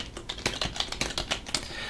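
Typing on a computer keyboard during a Linux installation, a steady run of crisp, close key clicks in an uneven rhythm with no talking.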